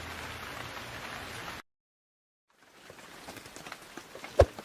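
Animated rain falls as a soft, steady patter that cuts to silence, then returns gradually as scattered drops with one sharper drip near the end, with no talk.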